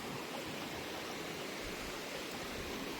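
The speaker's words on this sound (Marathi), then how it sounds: "तर काही वॉटरफॉल तर मस्त आहे" A waterfall at a hidden spot near Alibag pours in a steady, dense rush of water that stays even and full throughout, with no voices.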